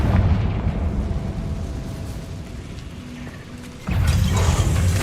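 A Confringo fire spell blasts off in the Hogwarts Legacy video game, a loud booming burst over dense low rumble, with a second heavy impact hitting near the end of the battle sequence.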